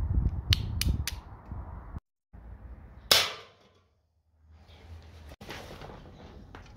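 A Colt Peacemaker CO2 air pistol is fired at cans outdoors: a few light mechanical clicks, then one sharp, close shot that fades quickly, followed by quieter handling sounds.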